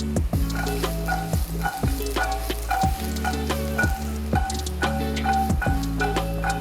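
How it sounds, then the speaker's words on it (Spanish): Broccoli stems, noodles and tofu are sautéed in a hot pan, a steady sizzle broken by rhythmic scraping and clacking strokes of a utensil stirring the ingredients, close and clear with no talking. "Y la salteamos un poquito."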